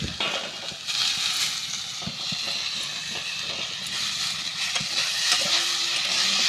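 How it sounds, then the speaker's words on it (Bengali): Neem leaves sizzling in hot oil in a pan with already fried eggplant, a steady close hiss and crackle that holds throughout with small pops and no talking. "এইভাবে আমি ভেজে নেব।"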